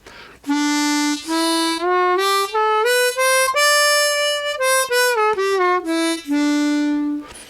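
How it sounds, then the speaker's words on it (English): Harmonica played up and back down a D Mixolydian scale in third position, clear single notes stepping evenly one after another, close and alone without speech. "Now we go to D Mixolydian, which is third position."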